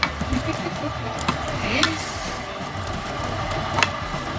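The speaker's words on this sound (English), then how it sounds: "Let's give it final stir before we serve." Lamb stew is stirred in a pot, a few scraping and clinking spoon strokes over a low bubbling sizzle, close and fairly loud, with no talk.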